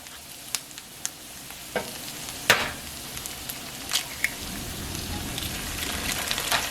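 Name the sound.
eggs frying in a pan with tortillas and onions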